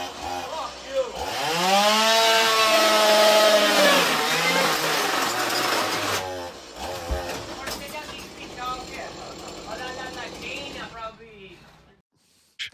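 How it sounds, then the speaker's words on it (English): A chainsaw engine revs up loud and steady, its pitch rising and falling, then winds down and sputters out before a brief silence, with voices talking faintly over the later part. "It's dangerous to have a chainsaw."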